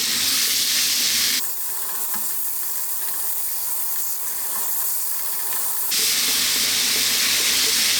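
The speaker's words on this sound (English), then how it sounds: "Let's throw this around in the pan, stirring all the time for about 3 minutes." Thinly sliced skinless, boneless chicken breast stir-fries in a pan as a loud close hiss of steam and sizzle, which drops to a quieter frying tone for a few seconds and then comes back at full strength.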